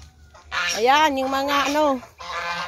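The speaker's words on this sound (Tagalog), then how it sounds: "mga pato at ganso. Ayan na, ang iingay po mga kaate. Ang iingay nila." Geese honk loudly and repeatedly up close, mixed with duck quacks, and a person speaks briefly underneath the noise.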